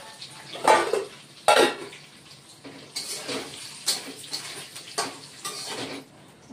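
Pre-fried potatoes go into a pan while cooking a vegetarian Bengali aloo paneer dum. Several sharp clattering thumps and scrapes of pan and utensil land close by, separated by quieter gaps.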